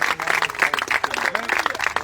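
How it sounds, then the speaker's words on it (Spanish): A church congregation claps as an offering of praise to God, a quick ragged burst of many hands at close range, loud and dense without a pause. "Regalémosle una ofrenda de palmas a Dios."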